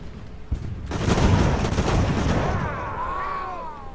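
Sailing-ship cannons fire in Ultimate Admiral: Age of Sail. A sharp report is followed by a heavy, rolling broadside boom that swells and slowly fades into a lingering rumble.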